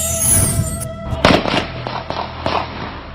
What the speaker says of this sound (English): This video posted to Facebook captured the gunshots from 2 Marion police officers' guns